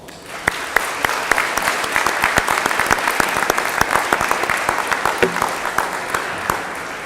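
A high school graduation crowd gives steady applause in a large venue, dense clapping that swells to a sustained roar with a few sharp, close claps standing out before it slowly thins.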